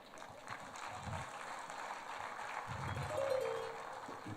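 An indoor awards ceremony crowd cheers and applauds in a steady, moderately distant wash of clapping and voices that swells slightly toward the end.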